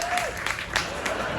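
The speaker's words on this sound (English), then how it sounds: "You can clap. Go ahead." Brief applause from the audience at a Star Trek: Voyager panel on a fan cruise, a steady wash of clapping with a voice briefly audible at the start.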